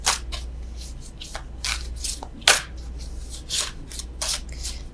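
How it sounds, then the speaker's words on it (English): Tarot cards riffled and shuffled in quick bursts of crisp flicking, close up, with soft pauses between shuffles and no talking. "I don't know why I'm still shuffling these."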